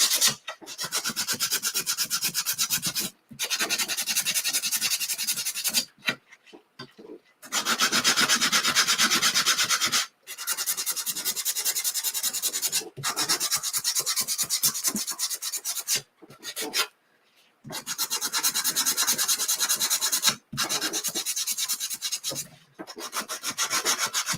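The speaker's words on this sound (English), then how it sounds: "I'm going to sand the edges first" Wood star cutouts having their edges sanded by hand, a steady close rasping scrape in long strokes broken by short pauses, loud and alone with no talking.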